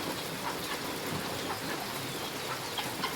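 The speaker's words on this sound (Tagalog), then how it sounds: "maulan na naman po sa amin" Steady rain falls on a Philippine village during the northeast monsoon in a continuous, even hiss with scattered drops, moderately loud and without any voices.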